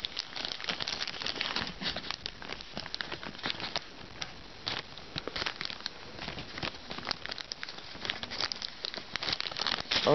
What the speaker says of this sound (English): So let's open this bag here. And there's some tape right here, which I need to get off.